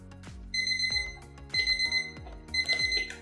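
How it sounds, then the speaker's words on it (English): An electronic timer beeps in three repeated bursts of high, steady tones, with a few low thumps and knocks in between, in a preschool during tidy-up time. "Timer beep, so it is time to tidy up"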